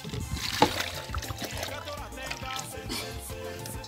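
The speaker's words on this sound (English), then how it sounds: "I'll put in water." Water is poured into wheat flour for traditional Kenyan beer, a soft trickling and sloshing heard close up beneath speech.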